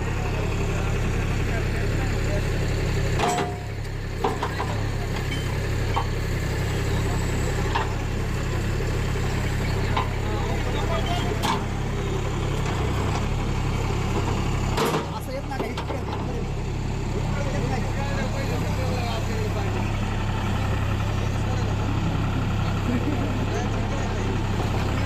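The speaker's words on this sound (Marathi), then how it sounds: "ट्रॅक्टरला आपल्या JC मध्ये कन्वर्ट केलेलं आहे" A tractor converted into a JCB-style backhoe runs at an agricultural exhibition in Baramati, its engine idling in a steady low rumble with a couple of brief knocks, amid crowd noise and people talking.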